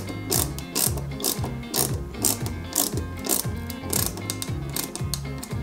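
Toothed gear wheels of a Peugeot 205 GTI 1.9 die-cast model kit click steadily in a fast, regular ratcheting rhythm, close and fairly loud, with no voices.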